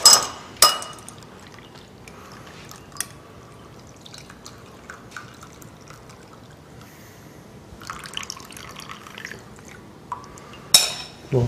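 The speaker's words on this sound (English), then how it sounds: "So we have this beautiful tea. We'll just pour it through here." Brewed tea poured from a vessel through a strainer, a soft trickling stream that comes in quiet bursts with a few light clinks, heard close in a kitchen with no talking.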